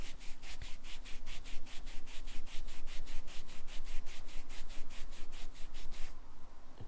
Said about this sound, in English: It might take a few attempts of wiping it over to get the grime out, and obviously keep rotating the baby wipe.